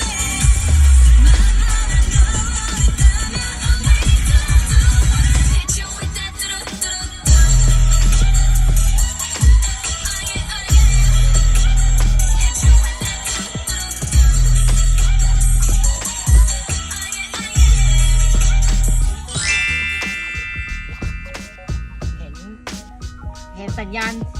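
Loud music from a Toyota Majesty van's car audio system, with heavy, punchy bass beats pulsing steadily through a full mix, ending with a brighter, sparser passage.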